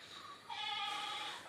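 A single close goat bleat, a wavering nasal cry lasting about a second, heard alone after a brief quiet moment.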